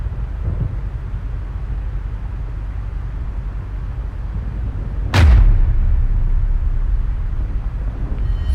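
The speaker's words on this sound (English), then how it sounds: "Date, do you like fireworks?" Fireworks in AI: The Somnium Files, a single loud sharp boom bursting over a constant low rumbling ambience, its echo trailing off slowly.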